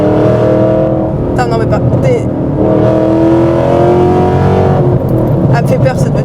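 A Ford Mustang accelerates hard close up, its engine rising in loud surging pulls with crackling exhaust pops in bursts, while people talk briefly inside the car.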